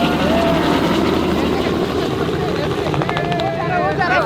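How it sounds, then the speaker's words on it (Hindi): Inside a helicopter during a ride, a loud, constant rotor and engine roar fills everything, with voices talking over it. "तो भाई यकीनन हेलीकॉप्टर के अंदर बैठने में मज़ा आता है।"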